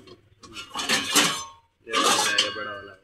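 Metal kadhai pans with handles clink and clatter as they are handled at a discount store, two bursts of ringing metallic knocks close by, separated by a short pause.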